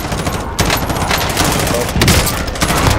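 Dense gunfire in Call of Duty: Warzone, with loud, rapid shots and overlapping automatic bursts filling the whole stretch, close and harsh, with a couple of sharper volleys standing out.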